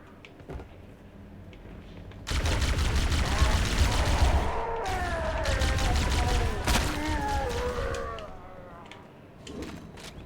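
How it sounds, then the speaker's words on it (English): Heavy gunfire and explosions roar through a Halo: Combat Evolved Anniversary beach assault, dense and loud for several seconds and then thinning out, with radio-style voices talking over the battle. "Dropship Bravo 22 taking enemy fire! Repeat, we are under heavy fire and are losing altitude!"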